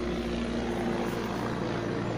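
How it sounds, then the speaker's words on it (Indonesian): A steady, loud engine drone of an aircraft roars overhead, broad and rumbling without pause throughout. "ada pesawat"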